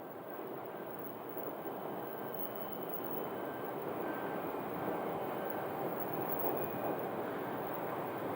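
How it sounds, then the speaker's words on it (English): A WestJet airliner taxiing at Phoenix airport, with a steady, broad jet-engine roar that holds at moderate, fairly distant loudness throughout, without talk. "We're going to see WestJet here coming up in a second as American taxis behind it."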